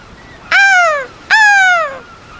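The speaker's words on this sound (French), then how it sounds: "Un cri perçant descend du ciel. C'est une mouette qui se perche en haut du mât." A seagull gives two piercing, drawn-out cries from overhead, each call sliding downward, loud and close with no talk around it.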